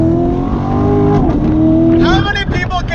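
A Corvette used as a daily driver revs and pulls while driving, its engine note climbing in pitch, then dropping and rising again, loud and close from inside the car.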